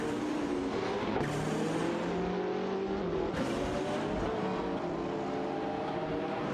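Lamborghini race cars in an AI racing video game, their engines droning loudly together with shifting, rising and falling pitches as gears change and the cars battle closely.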